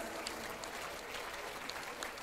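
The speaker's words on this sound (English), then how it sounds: "I would like the students here to give an applaud when I say it" Students applauding at a whole-school musical, a faint, distant, even crowd clapping with scattered sharper claps through the short stretch.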